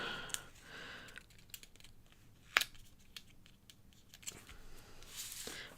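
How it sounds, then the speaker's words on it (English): Scissors snip through a printed lighthouse craft image during a live card-making session, giving a few crisp close cuts, one sharper snap near the middle, over quiet room tone with no talking. "I'm gonna cut this in half."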